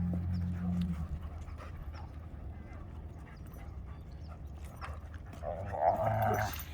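Young dogs play roughly together, an Irish Wolfhound, a Doberman and a Sheepadoodle puppy, with steady panting and scuffling, a brief whimper-like squeal near the end, and people chatting nearby throughout.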